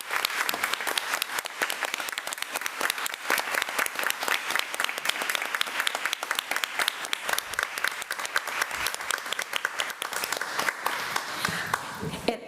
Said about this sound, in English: please give them a round of applause as they come